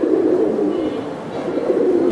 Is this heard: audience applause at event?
no